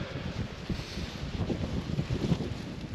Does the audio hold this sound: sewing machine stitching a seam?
no